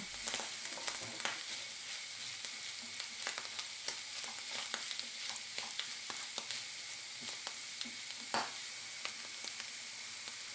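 Onions fry in a pan after a batch of false morel mushrooms, a constant hiss of sizzling oil broken by sharp crackles and the scrape of stirring, close and fairly quiet.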